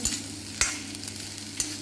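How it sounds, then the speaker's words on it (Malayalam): Steady sizzling and frying of grated coconut roasting with dried chillies in a pan over medium flame, with a few sharp scraping stirs of a spoon, close and fairly loud, no voices. "രണ്ട് ഉണക്കമുളക് നന്നായി ഇളക്കിയിട്ട് വറുത്തെടുക്കുക"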